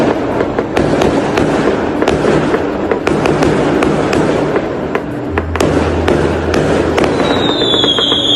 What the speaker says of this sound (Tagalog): Ang ganda talaga ng fireworks dito